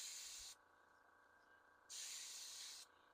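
An airbrush sprays paint onto Warhammer miniatures of the Champions of Slaanesh in two close, steady bursts of hiss, each about a second long, with quieter airflow between them.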